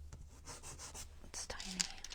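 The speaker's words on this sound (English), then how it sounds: "We're just gonna hit it just a tiny bit, get the burrs off." A small file scrapes burrs off a tiny part from a miniature house kit, making short, soft, close rasping strokes in an irregular rhythm with brief pauses, quiet and unaccompanied.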